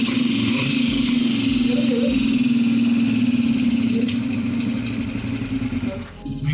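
A restored 1976 Honda CG125 single-cylinder motorcycle engine runs close by with a steady, throbbing idle that holds loud and even, then eases and sputters briefly near the end.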